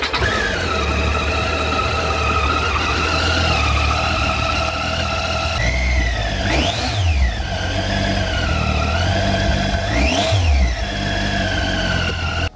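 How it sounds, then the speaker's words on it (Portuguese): A motorcycle engine runs steadily with a high mechanical balance shaft whine on top, rising and falling twice as the revs swell, close and loud throughout. "A moto mais famosa pelo som do balanceiro é a Tiger 800."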